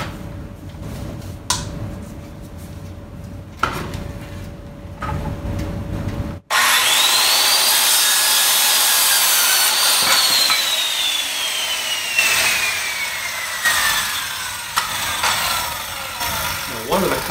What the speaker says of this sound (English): So just take your saw, set it at 10 degrees,